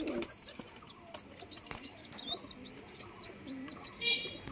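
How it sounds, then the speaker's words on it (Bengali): A Delhi-bred flying pigeon, black-bodied with white eyes, coos and chirps faintly in short repeated calls against a quiet outdoor background. "এটা আমার দিল্লির পায়রা।"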